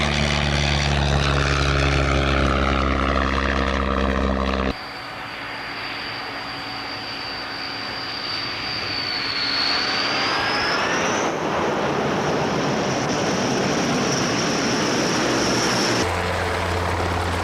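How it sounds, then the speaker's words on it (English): A de Havilland Canada DHC-1 Turbo Chipmunk 21 propeller plane flies at the 1966 Farnborough Airshow, its engine drone shifting in pitch as it passes, loud and steady, with cuts between shots. "The de Havilland Canada DHC-1 Turbo Chipmunk 21."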